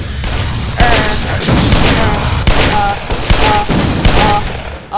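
Rapid gunfire crackles in a burst of shots during Black Mesa gameplay, loud and dense with heavy booming impacts, repeating in several volleys.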